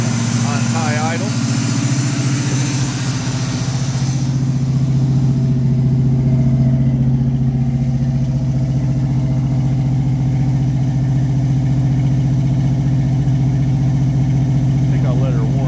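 A 1946 Ford engine runs steadily on high idle, a loud, even hum close by that holds throughout, with a faint voice briefly over it.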